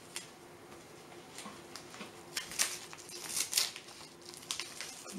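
A parcel holding a book is opened by hand, with soft crinkling, light ticking taps and scattered papery rustles, faint and close, with no voices.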